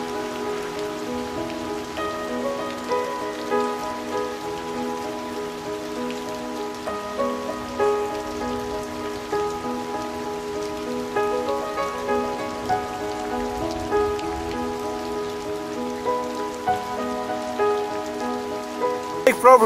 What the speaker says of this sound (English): So I'm stuck in a really heavy rain shower at the moment